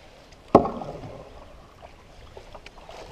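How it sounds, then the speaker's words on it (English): A single close canoe paddle stroke splashes and swirls through lake water in Algonquin Park, followed by a trailing gurgle and quieter drips as the boat drifts. "you're getting better at paddling, buddy"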